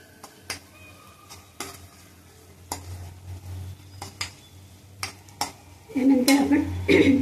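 Dhania-jeera powder and garam masala being stir-fried in a pan for a black peas amti: a string of sharp spoon scrapes and clinks against the pan over a low hum, with a louder sizzling, clattering burst near the end.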